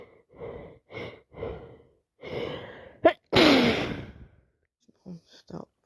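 A person sneezes with a cold or allergies: several heavy breaths and gasping inhales build up to one loud, forceful sneeze, followed by quieter sniffs and breaths, all close to the microphone.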